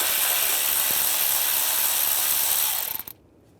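A socket wrench ratchets steadily for about three seconds while removing a 10mm bolt on a 2011-2018 RAM 1500 3.6L V6 engine during spark plug work, the clicking close and continuous before stopping abruptly.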